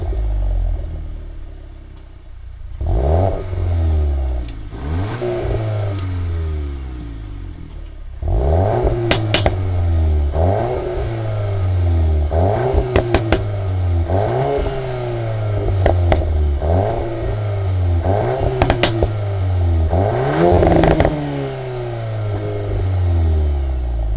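A 2022 VW Golf R fitted with an Akrapovic titanium exhaust revs repeatedly while stationary, each throttle blip rising sharply and falling back, with loud, close rasping exhaust tone and occasional crackles between revs.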